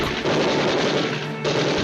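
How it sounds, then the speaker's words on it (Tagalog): A burst of rapid gunfire sound effects in a dramatized crime story, loud sustained rattling shots mixed with booming reports over a dense low rumble, briefly dipping before resuming. "Nagmula ang mga putok sa iba't ibang lugar"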